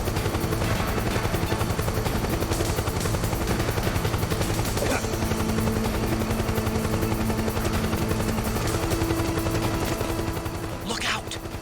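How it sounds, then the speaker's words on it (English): Helicopter flying overhead in Metal Gear Solid 4, a steady, loud rotor drone that holds for the whole stretch amid other game sounds. "I hear a chopper."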